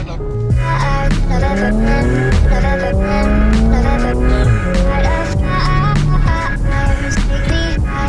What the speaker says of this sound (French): on va ouvrir les échappements, donc on va se retrouver avec une voiture un petit peu plus sonore